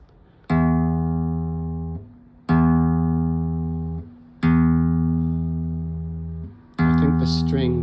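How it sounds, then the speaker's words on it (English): A flamenco guitar plays three bright strummed chords, each left to ring and fade before the next, then a fourth chord at the end over a little background noise. "And the flamenco guitar, which should be a brighter sound."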